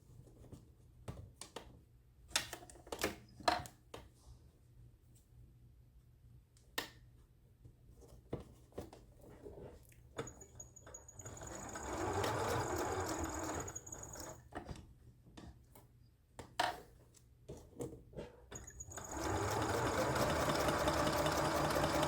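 A sewing machine stitches around a central quilt block in bursts, with long steady runs near the middle and at the end, interrupted by sharp clicks and handling taps between seams.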